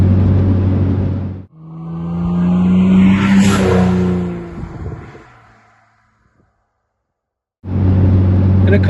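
An Aston Martin DB7 engine sounds close and loud, its note climbing through a rev, then settling and fading away to near silence, with other sound before and after.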